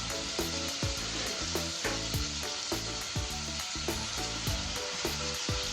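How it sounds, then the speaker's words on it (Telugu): Mutton curry fries in a pan with coriander, mint and green chillies, making a loud, continuous sizzle broken by regular stirring scrapes in a steady rhythm, with no talk. "కలిపి ఒక 2 నిమిషాలు ఫ్రై అవ్వనివ్వాలి"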